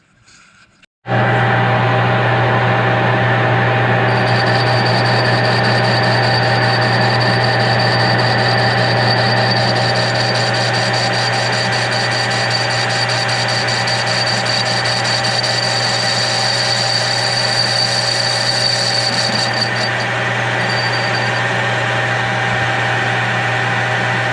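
A power cutter grinds steadily on metal while cleaning up a cut during the rebuild of a 2 1/2 HP hit-and-miss engine's clutch pulley, a loud, close, continuous whine that starts abruptly and holds for over twenty seconds.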